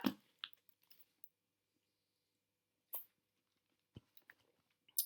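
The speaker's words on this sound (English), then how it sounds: "Have a sip of my water." Someone takes a sip of water close to the microphone. A few soft mouth clicks and a wet swallow stand out against near silence.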